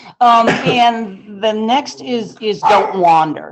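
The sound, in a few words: dog barking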